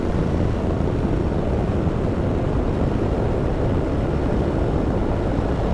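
A Ducati Multistrada V2S touring motorcycle cruises an open road in the Brecon Beacons, heard as a constant, dense roar of engine and wind rush that holds steady throughout without any voices.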